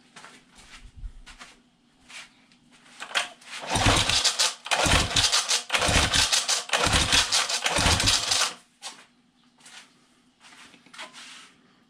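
A Johnson 9.9 outboard motor, long unused in storage, is cranked over for a compression test, giving a run of rhythmic, loud chugging pulses in the middle, with softer clicks and knocks before and after.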